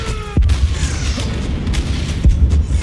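Heavy booming blasts from the video game Paladins, two sharp impacts standing out over a continuous rumbling barrage of explosions, loud and close.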